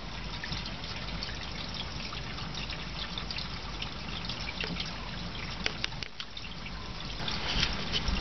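Water runs from two household fixtures during a well and pressure tank inspection. It makes a constant trickling, splashing flow throughout, with a few faint knocks and a slight swell in level near the end.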